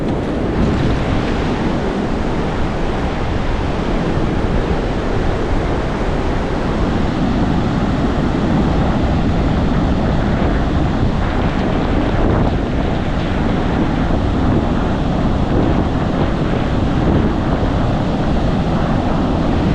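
Loud, continuous roar of surf washing onto a Goa beach during monsoon season, mixed with heavy wind rumble on the microphone, steady for the whole stretch.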